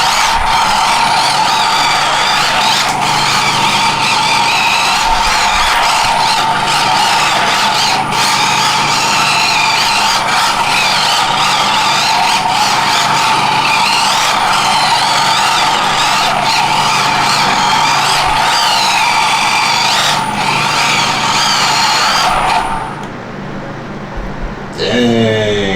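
A cheap RC drift car skids through figure eights, its tyres hissing and squealing continuously with a whining motor for over twenty seconds, close and loud, before cutting off near the end.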